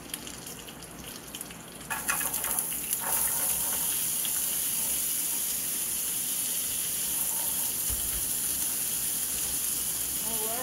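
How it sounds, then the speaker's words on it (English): Carrots stir-frying in a pan, a loud steady hissing sizzle that swells after a quieter start with a few scraping stirs early on, close and continuous. "Second batch is getting stir fried."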